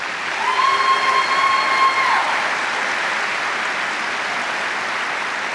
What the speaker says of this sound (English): Let's collectively give them a round of applause.